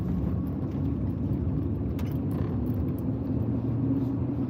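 A car climbs a snowy mountain road, its engine a steady low rumble with continuous road noise, close and even throughout with no voices.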